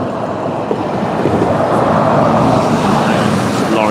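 Lorries thunder past on a road beside a local slaughterhouse, a loud, continuous roar of traffic that fills the whole stretch and drowns out other sound.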